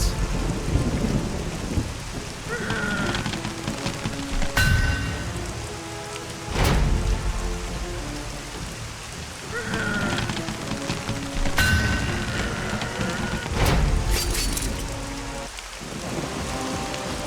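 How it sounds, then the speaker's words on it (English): Steady, heavy rainfall in the medieval video game The Cursed Crusade, broken by several loud cracks and rolling rumbles of thunder, with no voices over it. "Why did it have to rain today,"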